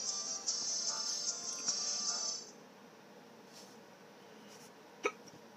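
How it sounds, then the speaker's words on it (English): A person hiccups a few times in short, abrupt bursts over a quiet room, with a thin high whine in the background early on and one sharp hiccup standing out near the end. "I have the hiccups, so this is going to be fun."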